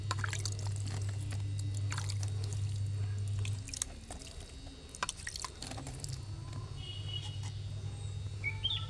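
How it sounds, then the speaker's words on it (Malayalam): Water sprinkled by hand over a freshly planted eggplant seedling, soil topped with ash, giving soft scattered drips and splashes over a low steady hum that stops partway through. No one speaks. "ഇത്തിരി വെള്ളം തെളിച്ച് കൊടുക്കുക."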